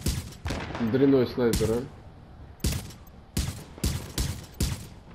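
Bursts of gunfire from snipers being shot in the video game Tom Clancy's The Division, with several sharp, loud shots spaced unevenly across the scene and a voice talking over the first part.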